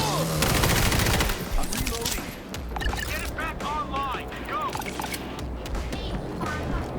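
Gunfire against zombie hordes in World War Z, defending a hospital in the New York Dead in the Water mission: a dense volley opens, then scattered shots continue under frantic Thai chatter and game noise.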